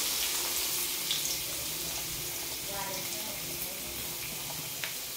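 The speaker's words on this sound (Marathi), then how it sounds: "आपला कांदा छानपैकी परतत आहे" Chopped onion frying in oil for an egg bhurji, a steady, loud hiss and sizzle that holds evenly throughout with faint kitchen clatter underneath.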